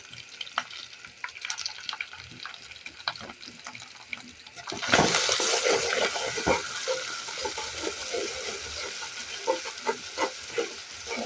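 Onion frying with ginger-garlic paste and cumin paste in a pan for dal bhuna sizzles softly at first, then rises into a louder, fuller hiss about halfway, with scattered stirring scrapes and clicks.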